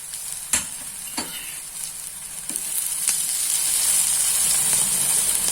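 Thalipeeth roasting in a pan sizzles with a bright, steady hiss that swells toward the end, broken by a few sharp clicks from the pan, with no talking.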